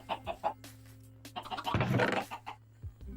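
Chickens cluck in the video game Minecraft, several short clucks and squawks in quick succession over a low steady background hum, with a denser burst in the middle.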